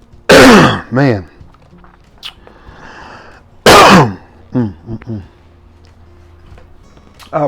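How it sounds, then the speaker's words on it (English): A person coughs and clears their throat hard, two loud bursts each followed by a few shorter hacking coughs, close to the microphone. "I'm still coughing up stuff."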